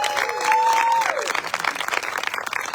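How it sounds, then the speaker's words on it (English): A brief, full round of audience clapping for candidates at a 2023 Carrboro town council forum. It starts strong with a short whistle-like tone, then thins into scattered claps. "So it's appropriate to clap now."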